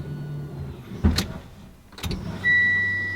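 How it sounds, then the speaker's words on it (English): Mitsubishi Lancer Evolution X being built for 500 whp: an electric fuel pump primes when the key is turned, giving a short mechanical whir and clicks, then a steady high electric hum that starts and holds at the end. "When we turn the key, we should hear the pump."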